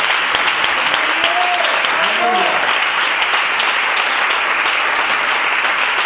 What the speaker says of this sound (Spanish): Vamos a dar un fuerte aplauso a la palabra del Señor.